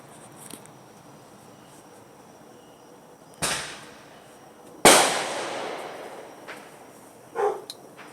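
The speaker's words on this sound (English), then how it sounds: "They starting off New Year's Eve shooting fireworks" New Year's Eve fireworks go off outdoors: two sharp, loud bangs with crackling tails, then a few fainter distant pops against quiet night background.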